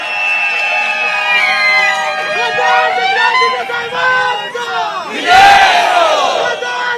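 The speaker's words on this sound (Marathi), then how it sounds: "सातारा लोकसभेची, सन्मानाची, स्वाभिमानाची एकदा जोरदार टाळी" A rally crowd at a campaign meeting in Satara roars and cheers loudly for a candidate, the chanting voices swelling and overlapping before a sharp burst of noise near the end.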